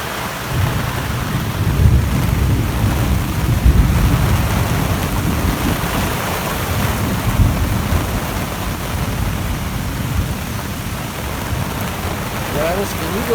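Heavy rain pours steadily on a campsite while deep, rolling thunder rumbles underneath, a dense, continuous wash of noise from start to finish.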